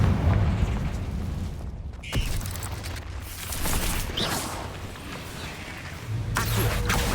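A Confringo blasting spell in Hogwarts Legacy detonates with a heavy boom and crackling burst, followed by rumbling debris and magical effects in a spell-filled fight.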